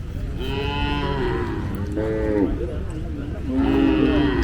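Cattle at a native cattle market in Tamil Nadu lowing repeatedly, with drawn-out moos rising and falling over constant crowd noise and talk in the background.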